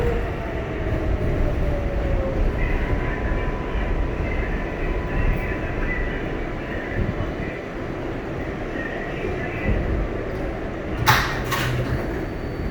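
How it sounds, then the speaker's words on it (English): An MTA 7 local subway train bound for Flushing Main Street rolls along with a steady, loud rumble and wheel noise heard from inside the car, with a brief clank near the end. "This is a Flushing Main Street bound 7 local train."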